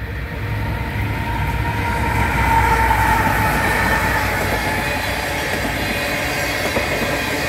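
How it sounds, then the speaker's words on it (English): An empty northbound ethanol and crude oil freight train led by CN ET44AC and ES44AC locomotives rolls past close by, with a continuous heavy rumble, rattling cars and wheel squeal. "Ethanol train."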